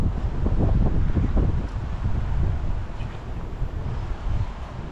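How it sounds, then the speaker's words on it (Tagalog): Wind gusts along a coastal road, a loud rushing buffet against the microphone that swells and eases without pause. "Sarap ng hangin."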